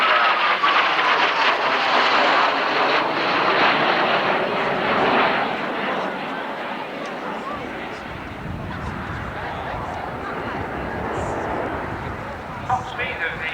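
An English Electric Canberra jet bomber flies past at an airshow, a broad, sustained roar that is loud at first and eases as it passes, with a commentator's voice over the public address.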